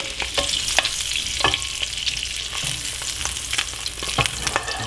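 Salmon frying in butter in a pan for blackened salmon sizzles steadily and loudly, with scattered pops and clicks of stirring or moving pieces throughout and no talking.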